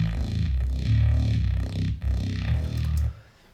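Heavily distorted synth bass line from the drop of a track, a thick gritty buzz with pulsing, shifting notes that plays close and loud for about three seconds before dropping away.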